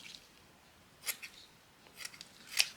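Scissors snipping paper during journal making, a few faint crisp cuts spread apart, quiet and close, with no voices.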